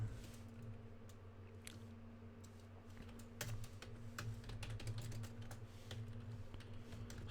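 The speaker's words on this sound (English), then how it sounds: "Typing it out every time." Computer keyboard typing during a live stream while building an RPG Maker game, a steady run of light clicking keystrokes close to the mic over a low electrical hum, with no talk.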